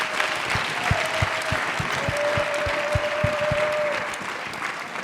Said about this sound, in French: Applaudissons très bien pour le Seigneur.